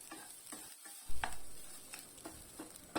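Grated coconut roasting in a hot pan for Goan chicken xacuti, a soft dry sizzle broken by several light scraping stirs of a spoon against the pan, close and without voices.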